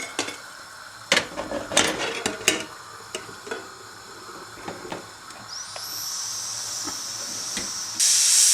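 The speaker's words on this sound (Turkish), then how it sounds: "düdüklümüzün havası çıktı" Clicks and clatters give way to a steady hiss that builds and ends in a loud, sharp burst of escaping steam from a pressure cooker cooking okra stew.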